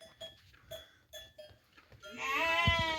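Sheep and lambs bleating at feeding time on a winter farm, a few short calls at first, then a loud, drawn-out bleat close to the microphone.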